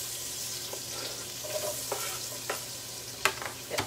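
Chopped onion dropped into a hot pan sizzles steadily with stirring, with occasional louder pops and scrapes over a constant low frying hiss.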